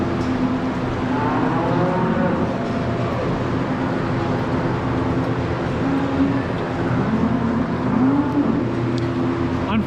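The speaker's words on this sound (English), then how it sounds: "It's one of my favorite cows in the barn here" A dairy cow moos inside a barn, its long, drawn-out calls rising and falling over a steady bed of barn noise and low machinery hum.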